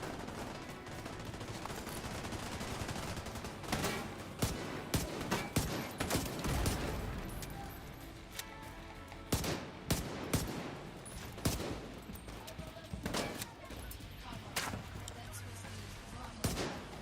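Turret gunfire in The Division 2: a steady stream of loud, rapid impacts and bursts hammering close by, layered over dense game noise and a talking voice throughout.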